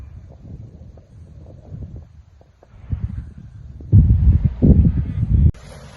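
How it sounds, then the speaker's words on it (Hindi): Cool wind blows at the Raritan Bay beach, buffeting the microphone in low rumbling gusts that swell louder midway and then drop off, with a voice speaking over it. "ठंडी हवा चल रही है, सर्द हवा चल रही है"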